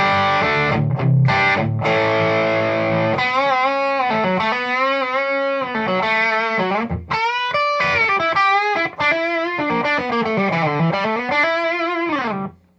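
A sustained electric guitar through a Hao Rust Driver pedal in heavy overdrive, long ringing notes and bends that grow harsher and thicker as the distortion climbs.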